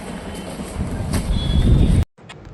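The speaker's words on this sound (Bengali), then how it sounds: "আমাদের ট্রেন ফাইনালি এসে গেছে উলবেড়িয়া স্টেশন" A local train pulls into Uluberia station on the Howrah line: a loud, steady rumble of wheels and carriages with a broad hiss for about two seconds, then an abrupt drop to a much quieter background.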